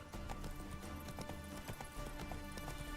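Rapid rhythmic hoofbeats of a galloping horse in The Witcher video game pound steadily over a dense, noisy game soundscape.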